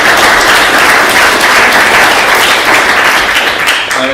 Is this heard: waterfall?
no